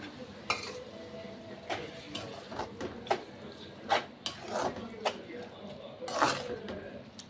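A spoon stirs potato masala with salt, turmeric and boiled chana dal in a pan, scraping and clinking against the metal in irregular strokes beneath a soft sizzle, with a voice talking over it.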